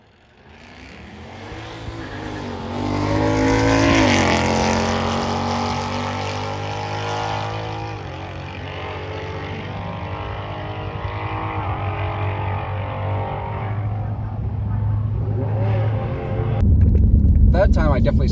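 A 2019 Ford Mustang GT launches down a quarter-mile drag strip with wheelspin, its engine roaring loud and close as it climbs through the gears, with a voice speaking under the noise.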